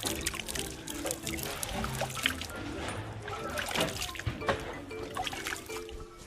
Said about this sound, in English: soaks the pulp in cold water